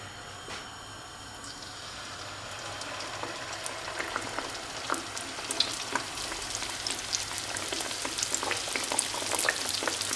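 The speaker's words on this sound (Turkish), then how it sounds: "Şimdi kızartma aşamasındayız." Steady crackling sizzle of meat-filled dough frying in hot oil in a pan, growing denser and louder as it goes on, with no voices.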